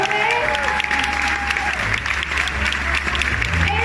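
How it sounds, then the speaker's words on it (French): A steady wash of audience applause at a food forum in Paris, sustained clapping from a crowd throughout, with a faint tonal hum beneath. "Mesdames et messieurs, nous applaudissons Monsieur Guy Savoie."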